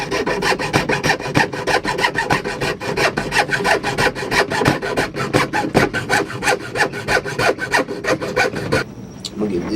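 A handsaw cutting wood for a car trunk mount on a Mitsubishi Eclipse: loud, close, rapid rhythmic rasping strokes, about two per second, running continuously before stopping abruptly near the end.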